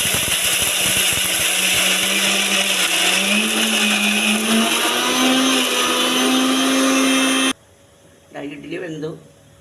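A mixer grinder whirs loudly, grinding coconut, onion, ginger and chilli for chammanthi, its motor pitch rising slightly for about seven seconds before it cuts off abruptly, then a brief voice speaks in the quiet.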